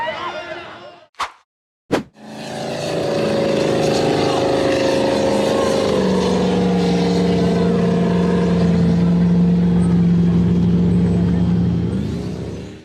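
A white-framed off-road buggy climbs a near-vertical sand dune, its loud, sustained engine drone roaring steadily and shifting pitch partway through, after a couple of brief sharp sounds at the start.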